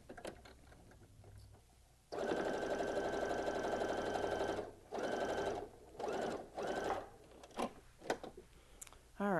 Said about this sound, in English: I'm going to head over here to my sewing machine.